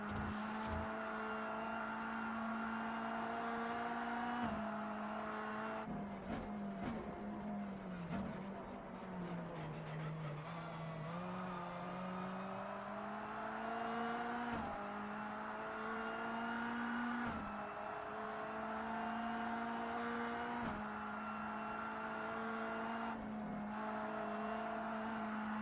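In the racing game Race Pro, opponent cars in a Group A career race drone close behind a Mini Cooper, a continuous engine whine rising and falling with gear changes.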